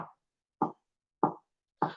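Three loud, separate stomps of feet at an evenly spaced rhythm, with a faint tail of an earlier one at the start and silence between the thuds.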